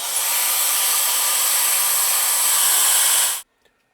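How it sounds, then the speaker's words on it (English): An electric air gun blowing dust off a guitar overdrive pedal circuit board gives a steady, loud, close hiss-like whoosh for about three and a half seconds before cutting off abruptly. "I'll just take my electric air gun and blow this off."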